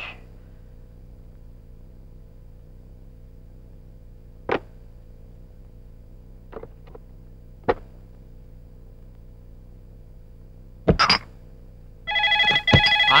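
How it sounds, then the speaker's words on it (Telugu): Telephone ringing in a Telugu comedy scene: a quiet room with a few sharp knocks and clicks, then a close electronic ring begins near the end, steady and fairly loud. "ఫోన్ రా. ఎత్తు."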